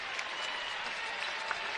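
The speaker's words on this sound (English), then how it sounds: "The appreciative crowd is standing." Spectators at a women's college basketball game between Oregon and UCLA applaud in a brief, dense burst of clapping, heard from a distance.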